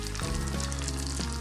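Chana dal paste frying in a pan over medium heat for halwa gives a steady, close hiss and sizzle throughout, with no voices.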